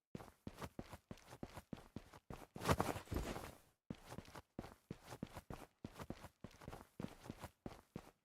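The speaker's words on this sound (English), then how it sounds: "There are footstep sounds in third person. They're just very quiet." Quiet third-person footsteps in the video game Suit for Hire, a steady walking rhythm of soft individual steps with a brief heavier scuffing burst partway through.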